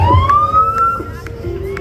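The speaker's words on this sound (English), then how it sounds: "Can you make your siren play hot to go?" A police car siren at the Nevada Day parade, a loud rising wail sounding close by that sweeps upward and holds, with crowd noise beneath and no talk over it.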